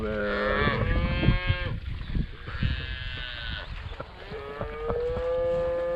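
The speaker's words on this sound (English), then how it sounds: "Bulls are out here." Bulls and cows near the water low and moo repeatedly, loud and close. Long drawn calls overlap one another across the whole stretch with no talk.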